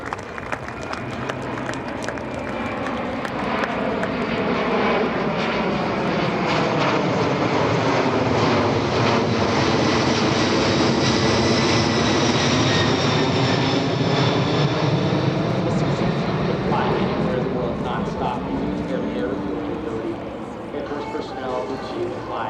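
A Boeing C-17 Globemaster III military transport jet flies a demonstration at EAA AirVenture 2025, its loud engine roar swelling and shifting pitch as it passes, steady throughout. Announcer-style speech may sit faintly under it.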